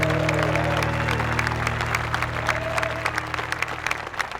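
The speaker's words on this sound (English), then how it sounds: "Let's give them all a round of applause right now for making it this far." An audience at the SEMA Battle of the Builders event applauds the builders with dense, steady clapping, a low electronic hum and a faint tone beneath it, the applause thinning slightly toward the end.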